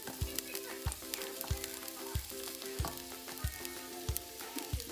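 Garlic sizzles and fries in a hot pan, a steady crackling hiss broken by regular sharp taps and scrapes of a spoon stirring, with a faint hum underneath and no talking.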